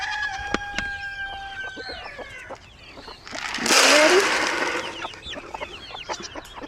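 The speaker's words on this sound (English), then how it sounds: "I think I'll feed the chickens here too." Backyard homestead chickens cluck and call in short, irregular bursts at close range, joined by other bird chirps, with a louder flurry of noise in the middle of the clip.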